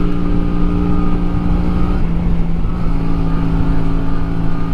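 A Honda Shadow custom motorcycle cruises along, its engine droning in a steady, loud hum with a constant low pitch and no clear revving or gear changes.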